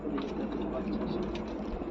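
Fancy pigeons coo softly in a loft, a low continuous murmur of overlapping calls with faint chirps and background voices mixed in.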